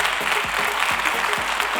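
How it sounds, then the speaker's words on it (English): A crowd claps continuously at a kids' summit conference in India, fairly loud and dense, with a few low thumps and faint crowd murmur mixed into the steady clapping. "A big round of applause for Mr. Crasto, please."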